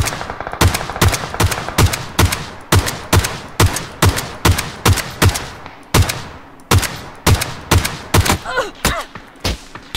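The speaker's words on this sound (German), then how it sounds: "Ich schieß einfach." Gunfire in PUBG, a long run of loud, evenly spaced single shots with a brief pause midway and then faster shots, each with a sharp crack and short echo.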